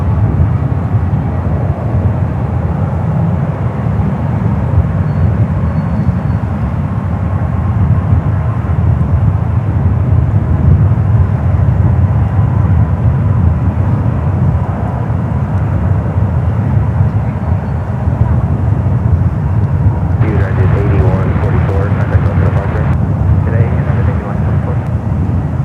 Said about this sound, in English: The Lufthansa Queen heading to the 28s